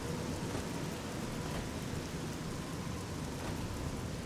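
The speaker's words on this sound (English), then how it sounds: "Oh, the rain's stopping." Steady rain falling in the video game Fallout 3, a dense continuous hiss of drops on surfaces with faint rumbling beneath, even and unbroken throughout.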